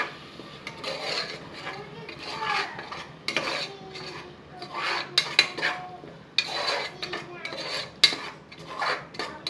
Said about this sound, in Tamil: நல்லா கலந்து விட்டுக்கோங்க. எல்லாத்தோட நல்லா மிக்ஸ் பண்ணிடுங்க.